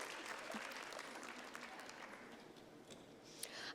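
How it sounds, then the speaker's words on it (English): Steady audience clapping fills a room at a talk welcoming a guest speaker, moderately loud and continuous with no voices on top. "Where's the clapping?"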